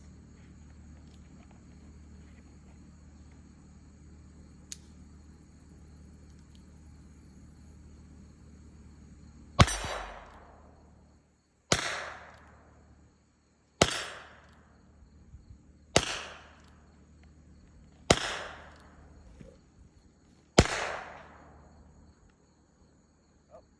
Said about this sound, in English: I'm gonna shoot 6 rounds